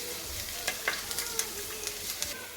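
Mustard seeds and ginger frying in hot oil in a pan, a steady soft sizzle broken by scattered sharp pops and crackles over nearly three seconds, fairly quiet and close, with no voices.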